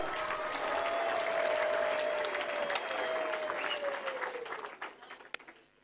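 A church congregation claps together in sustained, dense applause. It holds steady, then thins and fades out near the end, while a voice carries on over it.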